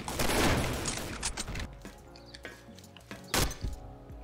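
An M24 sniper rifle fires in the video game Combat Arms, starting with a loud close burst of gunfire, then scattered thuds, then one more sharp shot near the end, with no talking.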